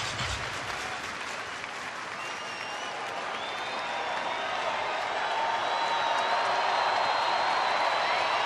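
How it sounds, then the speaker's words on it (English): A baseball stadium crowd claps during the 2013 Mets at Braves game in Atlanta, the applause swelling steadily and holding as a broad, sustained roar of many hands near and far. "Everybody clap your hands."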